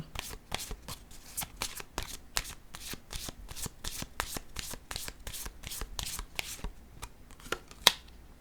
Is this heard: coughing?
no